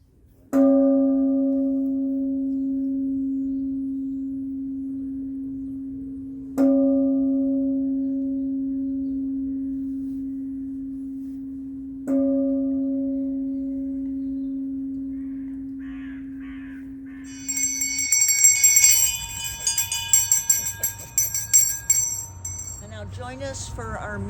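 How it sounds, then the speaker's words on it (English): The UN Peace Bell is struck three times at slow, even intervals, each blow a deep resonant tone that hums and fades before the next; afterward, cawing and chirping birds take over outdoors. "I can also ring the bell."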